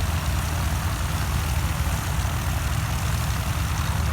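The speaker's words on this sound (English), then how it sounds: "beautiful plane start up" Light aircraft engines idle and run at an airfield fly-in, a steady low propeller drone that stays constant and fairly close without a clear rise or change, with no voices over it.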